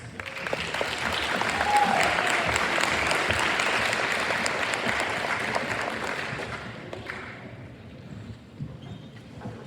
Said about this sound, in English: could we please have a round of applause for all of our contest team members?